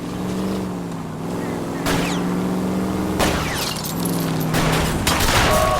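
Gunshots aimed at a fleeing car's tire during a wet-road chase in LA Noire, several sharp cracks over a constant engine roar, with voices talking.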